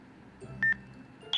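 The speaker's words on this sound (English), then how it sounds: "You hear a beep and the voice will tell you what channel you're on." Two short electronic beeps from a Motorola RMU2040 two-way radio confirming a channel setting sound about half a second apart, sharp and tonal, over a quiet background hum.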